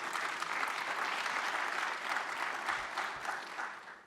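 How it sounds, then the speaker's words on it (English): Steady applause from a conference audience at an LSIC spring meeting welcome session, many hands clapping in a full, even roar that holds strong before fading out at the end. "give yourselves a round of applause."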